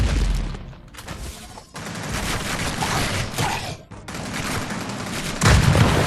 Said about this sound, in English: Let's try the back-mounted RPG.